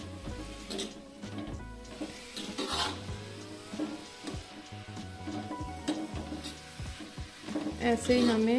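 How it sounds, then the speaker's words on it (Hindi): Radish frying lightly in a pan for a radish and fenugreek-leaf dish, with soft sizzling and stirring scrapes throughout, heard beneath someone speaking briefly and background music. "अब हम अपनी मूली को हल्का सा भूनेंगे"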